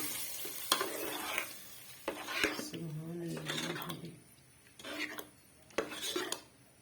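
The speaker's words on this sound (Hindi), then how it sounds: "देखिए तड़का हमने इसमें डाला है कि लहसुन और" A garlic and green chilli tadka for moong dal gives quiet sizzling, with stirring and scraping in the pan coming in short bursts, and a voice is faintly audible.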